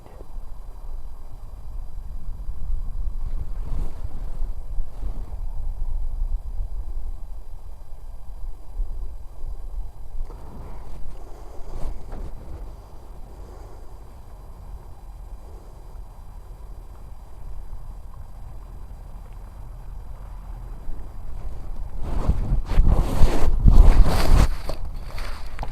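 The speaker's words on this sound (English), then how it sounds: "With a nice cooling wind." Cool wind blows steadily outdoors on a walk under heavy cloud, a low continuous rumble against the microphone that grows louder and gustier near the end, with no one talking.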